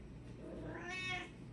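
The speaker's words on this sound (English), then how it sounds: "A very needy cat" A needy cat gives a single drawn-out, rising meow close by in a quiet room, low background hum beneath it.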